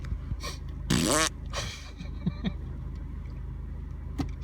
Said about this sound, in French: je peux péter dans la voiture alors personne n'entendra